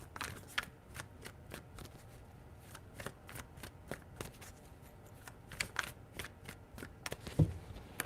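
Tarot cards being shuffled in short, crisp riffling bursts, a regular series of close, dry flicks and snaps repeating alone throughout.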